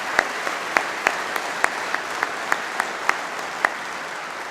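Sparse, scattered claps from an audience at a university convocation ceremony honoring a university band, a dozen or so distinct hand claps spread over a few seconds rather than a full ovation.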